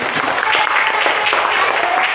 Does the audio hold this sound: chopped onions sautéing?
no